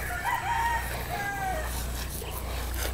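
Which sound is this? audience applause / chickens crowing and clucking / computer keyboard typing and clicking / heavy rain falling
chickens crowing and clucking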